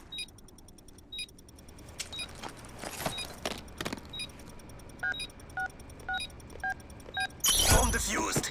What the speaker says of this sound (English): Bomb defused.